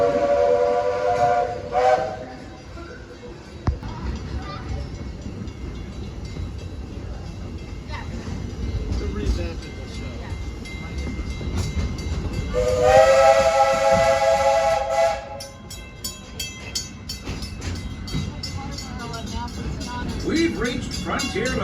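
The Walt Disney World Railroad steam train rolls along with a chuffing rumble, while its steam whistle sounds two clear tonal blasts, one brief at the start and a longer one midway, with people talking nearby.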